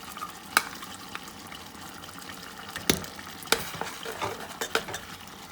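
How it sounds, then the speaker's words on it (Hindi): Chicken palak with cream being stir-fried in a pan, a steady soft sizzle broken by several sharp scraping and clattering strokes of a utensil against the pan, close by with no talking. "ये हम ऐड कर देंगे और इसे 10-12 मिनट के लिए फिर अच्छे से भूनेंगे"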